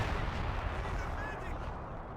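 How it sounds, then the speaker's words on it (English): Artillery fire in a real-time strategy match, a dense rumbling barrage of low booms and crackling impacts that stays steady and fairly loud across the whole moment. "The wing artillery's in."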